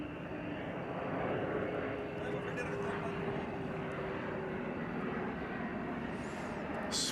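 A Qantas Spirit of Australia airliner rolls into position at DFW Airport. Its engines make a low, even drone at a distance, steady for about seven seconds, with a faint tonal whine.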